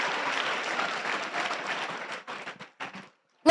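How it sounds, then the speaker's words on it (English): Audience applause at a state robotics championship for the second-seed alliance, a broad wash of clapping from a large crowd that fades and breaks into a few last scattered claps before stopping. "let's give a round of applause to our second seed alliance"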